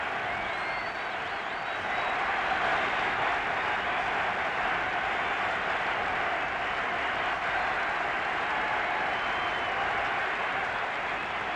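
Stadium crowd at a Belfast home international football match between Northern Ireland and England, cheering and applauding as the teams walk out onto the pitch; a steady, dense roar of applause and voices, far-off and continuous throughout.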